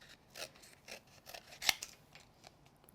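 Scissors trimming excess paper from underneath a card frame, giving a few soft rasping snips close by and one sharper, louder cut midway through.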